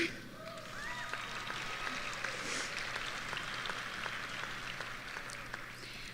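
An audience at a 2024 Odessa High School commencement applauds, with sustained, even clapping from a large crowd that continues steadily for several seconds and faint voices mixed in.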